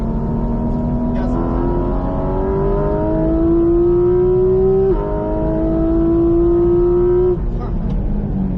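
A Porsche GT4RS accelerates hard on Circuit Mettet, its engine pitch climbing steadily through two quick upshifts, loud and close from inside the car.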